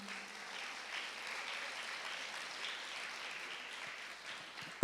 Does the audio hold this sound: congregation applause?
yes